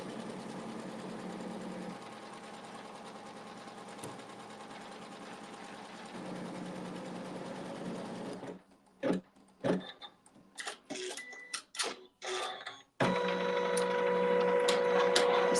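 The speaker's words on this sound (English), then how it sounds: "hit the start button, and it's going to sew just a basting stitch around the perimeter" A sewing machine runs a steady basting stitch around the edge of a quilt block, its motor whirring continuously at close range, briefly pausing into scattered clicks and handling noises before the stitching hum resumes.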